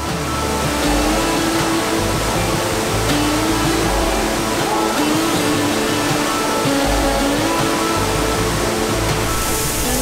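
A waterfall in rural Lombok pours into a natural pool at its base, giving a loud, steady broadband rush of falling water that stays constant throughout, close and enveloping.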